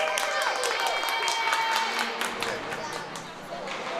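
Fans applaud at a youth developmental ice hockey game in an arena, a steady wash of clapping and crowd noise that fades slightly, with a commentator talking over it throughout.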